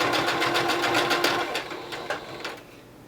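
A sewing machine stitches straight across fabric while making a protective face mask, its needle chattering in a steady rapid run that slows and stutters toward the end, close and clear with no talking.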